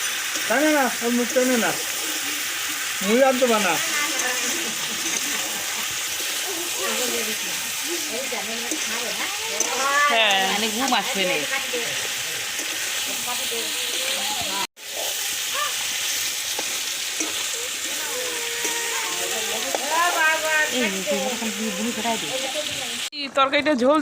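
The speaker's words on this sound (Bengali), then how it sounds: "ভালো করে মিনিট দশেকের মতন কষিয়ে নেবে" A curry mixture sautéing in a pan gives a steady, close sizzle, while a person talks over much of it, with a brief sharp knock midway.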